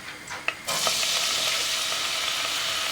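Onions dropped into hot oil for Turkish iç pilav, a soft clatter then a loud, steady sizzle that jumps up and holds close and bright.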